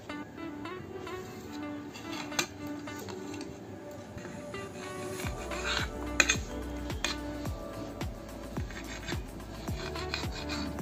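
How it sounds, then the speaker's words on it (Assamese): A knife saws the crusts off soft bread slices in repeated close scraping strokes, with occasional light knocks against a board or plate. "মই এই স্লাইসখিনি এনেকে সাইড কিটা ধুনিয়াকে কাটি ললো"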